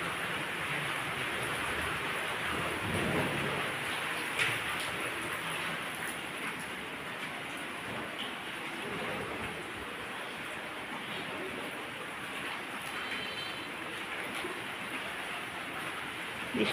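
Heavy rain pours down in a dense, continuous wash that stays even and unbroken, with nothing else standing out.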